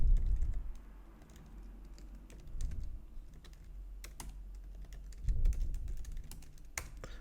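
Keys clack steadily on a computer keyboard as a flashcard question is typed out, a dense run of sharp close taps with a few louder strokes, alone with no talking.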